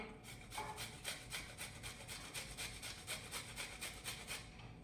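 Fresh ginger rubbed against a hand grater for missi roti dough, a steady rhythmic rasping of quick back-and-forth strokes, close and fairly quiet, with no voices.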